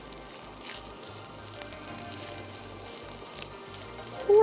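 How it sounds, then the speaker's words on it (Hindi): Julienned ginger frying in a pan, a soft, steady sizzle with faint crackles running throughout, no talking. "थोड़ा सा फ्राई कर रहे हैं"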